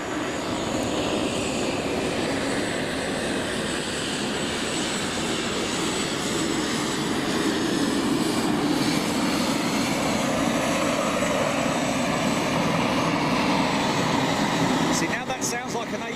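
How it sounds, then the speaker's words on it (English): A steady, loud turbine-like aircraft auxiliary power unit drone runs continuously with a whining hum, close by, slightly fading near the end, at Boeing Field. "Sounds like an APU because that is what the engine in that aircraft."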